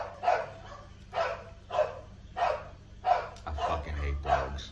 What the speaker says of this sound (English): I wish someone would just shut these fucking dogs up.